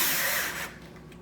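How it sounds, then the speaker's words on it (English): Brief whine of a power drill driving a screw into a Klearvue cabinet drawer front, loud for about half a second and then cutting off abruptly. "You'll probably have to run it at a little bit of an angle"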